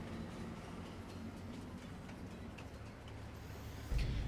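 A loaded train hauls out in the Farming Simulator 22 video game: a low, steady rolling rumble with faint rhythmic ticking from the wheels, quiet and continuous with no talk.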